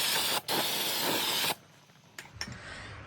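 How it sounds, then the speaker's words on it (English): Brake cleaner sprayed from an aerosol can onto Ford Bronco II clutch parts during a repair, a loud steady hiss lasting about a second, a brief break, then another long burst before stopping, followed by faint clicks. "I'm just gonna spray a bunch of brake clean on here"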